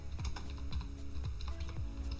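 Keys clatter on a computer keyboard as a pip3 install command is entered in an Ubuntu terminal, giving a brisk, close run of steady keystrokes with no talk.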